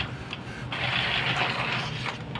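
An Epson inkjet printer running a head cleaning cycle, a steady mechanical whir and hum with a louder grinding pump stretch in the middle, close and continuous.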